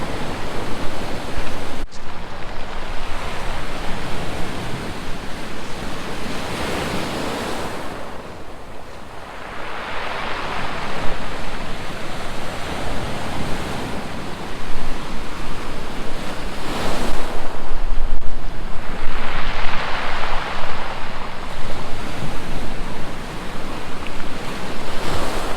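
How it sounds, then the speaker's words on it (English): Ocean waves surge and break on the rocky beach at Yaquina Head, rolling stones that clatter and tumble over one another as the water drags back, a loud continuous wash rising and falling in swells with wind noise, no voices. "listen to all the rocks cascade on top of one another and make this sort of clapping, clattering sound"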